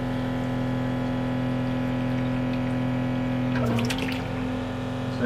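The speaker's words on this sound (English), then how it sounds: "so you can probably hear the pumps are running right now." Water maker pumps on a sailboat run in a closed loop flushing pickling storage solution, giving a steady close mechanical hum with a strong low tone, briefly disturbed by a clattering burst near the end.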